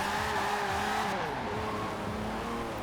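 A classic British car in Forza Horizon 4 drifts with its rear wheels spinning, engine revs bending up and down under a tyre squeal, loud and close throughout.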